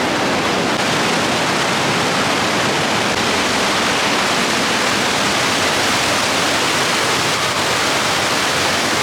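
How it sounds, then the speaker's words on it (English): A powerful waterfall, Trümmelbach Falls, plunges down inside a mountain cave, producing a loud, steady, echoing roar of rushing water that fills the space without a break. "Waterfall here is just cutting straight down into this cave. Can you hear how loud it is?"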